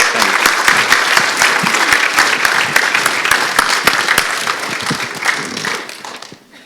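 Loud, dense applause from an audience at a community pitch event in Geelong, many hands clapping continuously and close, tapering off at the very end.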